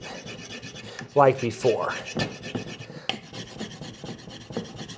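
A tool scrapes and rasps across a painted laminate surface in repeated strokes, close and gritty, with a person speaking briefly over it.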